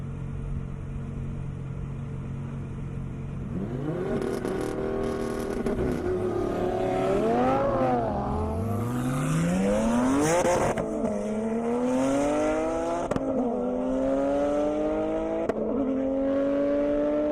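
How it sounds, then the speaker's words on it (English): A Porsche race car on a track accelerates hard, its engine note climbing through several rising gear sweeps, with other race cars nearby and a brief tire squeal, loud and continuous with no talk. "You can see Sean in that beautiful Porsche right there."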